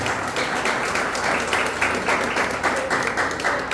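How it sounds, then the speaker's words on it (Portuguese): Congregation at a church conference applauding, a dense, steady wash of clapping filling the whole stretch at even loudness with a faint voice underneath. "Aplauda bem forte o nome de Jesus."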